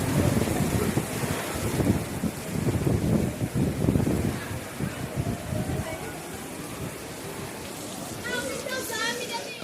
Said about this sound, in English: There is heavy downpours, thunderstorms here at the moment.